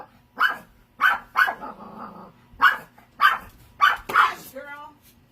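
A dog barks repeatedly in short, loud, close bursts spaced about half a second to a second apart, with some growling between them and speech around it.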